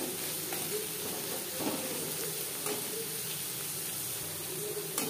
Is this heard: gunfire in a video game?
no